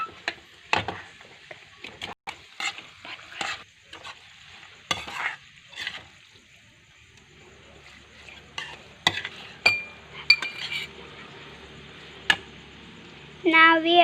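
A utensil stirring noodles being mixed with red chili sauce and food color at home, giving scattered soft scrapes and clatters in an irregular rhythm, fairly quiet and close, with no talk.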